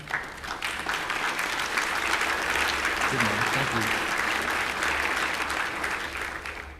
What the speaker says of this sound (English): So I want you to give Stevie Morrow a round of applause, and he will stand up for a second.